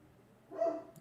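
A single short dog bark rises from a quiet background, moderately close, with a faint whine trailing off at the end.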